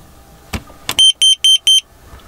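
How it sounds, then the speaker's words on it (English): A carbon monoxide alarm in a van beeps four times in a steady, evenly spaced run, loud and close, after two short knocks. "which is a carbon monoxide alarm"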